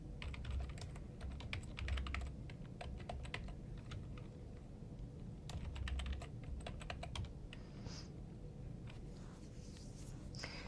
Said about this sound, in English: After you type the address in your browser